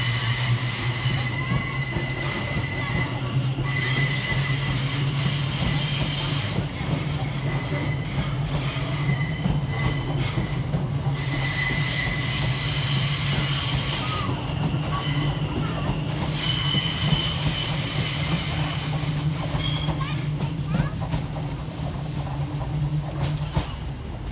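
A Class 730 electric train rumbles and hums steadily nearby at a station, with high-pitched wheel squeals and rail clatter throughout as it pulls away.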